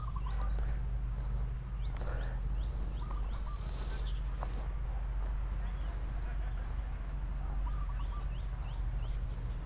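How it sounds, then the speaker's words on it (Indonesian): Wild birds call at a historic statue site in Kediri. The chirps are faint and scattered over a constant low rumble and outdoor background noise, with a voice speaking softly at times. "Masih suara burung liarnya masih kental banget"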